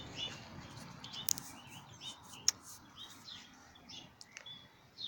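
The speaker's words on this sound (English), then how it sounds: "Birds and bees all coming and doing their pollinating." Small birds chirp outdoors among blossoming flowers, a few quiet, scattered high tweets and one or two sharper calls over a faint background.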